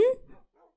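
A tamed dog in the Minecraft 1.13 video game gives a single short, sharp yip or bark, followed by a faint, quick trailing whimper.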